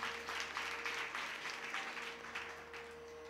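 Applause from a kirtan audience held during a Krishna Janmashtami festival, a steady wash of clapping sustained for about three seconds, fairly loud and even, with a low constant hum underneath and no talking.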